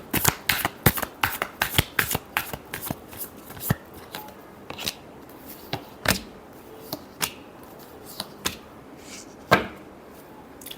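Tarot cards are shuffled in quick, crisp riffling bursts that slow into scattered single snaps and slaps, close and fairly loud with no talking.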